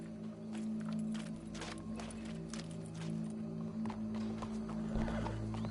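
A horse's hooves clip-clop at an unhurried pace in the Red Dead Redemption 2 video game, moderately close, over a steady droning ambient background.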